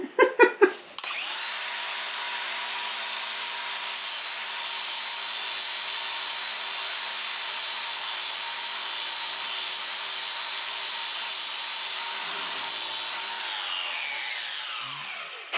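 A power sander runs on an 80-year-old wooden beam, starting with a few clicks and then a steady, close, loud whine that holds for about fourteen seconds before stopping.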